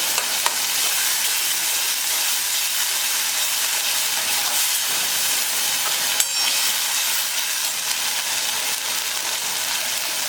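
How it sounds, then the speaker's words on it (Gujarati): Tomatoes frying at full heat in a pan for a bottle gourd curry, stirred steadily, with a constant bright sizzle and soft scraping throughout and no voices. "હવે આપણે હલાવી લઈએ."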